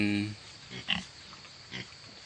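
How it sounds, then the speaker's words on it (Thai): Pigs grunt and oink faintly while eating fermented banana-stem feed mixed with sugar, taro and EM on a farm with newborn piglets, giving a few short soft snorts over quiet pen background. "หมูกิน"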